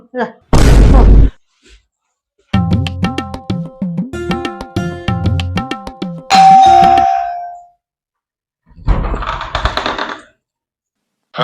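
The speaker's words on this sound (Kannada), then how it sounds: "ಯಾರ ಬೆಲ್ ಹೊಡ್ಯಾತಾರ ನೋಡಿ ಬರ್ತೀನಿ" A doorbell rings with a bright chiming tone, repeated in bursts, between loud thumps and bits of talking nearby.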